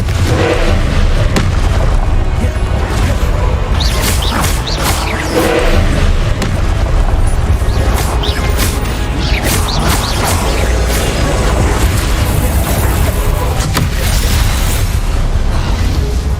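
Confringo blasting curses exploding in Hogwarts Legacy combat, a dense, continuous barrage of loud booms and crackling bursts that stays near and intense throughout.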